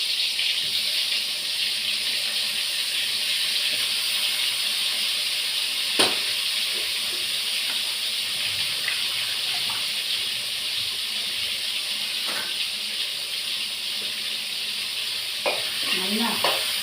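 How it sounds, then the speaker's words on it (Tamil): Steady sizzling of cauliflower frying in hot oil fills the clip, a constant hiss with occasional small pops and clicks, close up and without talk. "காலிஃப்ளவர் நல்லா வறுபட்டுச்சு."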